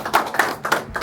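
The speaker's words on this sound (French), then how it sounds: "je pense que vous pouvez vous applaudir quand même." A small group of people claps in a few short, uneven bursts, close by and fairly soft, in a compact room such as a podcast studio.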